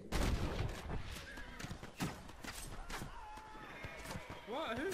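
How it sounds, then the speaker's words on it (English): Sharp gunshots in Red Dead Redemption crack out in several scattered bursts, mixed with a horse whinny and game ambience, all heard under a person talking. "Who's shooting at me now?"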